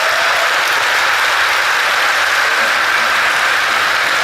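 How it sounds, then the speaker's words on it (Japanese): A large audience applauds at the FF14 Fan Festival in London, a dense, steady roar of clapping that holds at full strength with no voices over it. "look at the enthusiasm in that applause"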